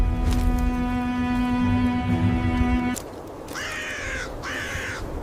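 Carrion crows caw in two harsh bursts over a battlefield, following a sustained tonal drone that cuts off, with narration speaking beneath.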